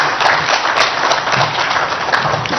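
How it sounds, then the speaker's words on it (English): An audience at a Friends of Africa roundtable in Toronto applauds as a guest joins the host at the podium, making a steady, dense wash of clapping that holds evenly throughout. "let's give her a round of applause as she joins me on the podium"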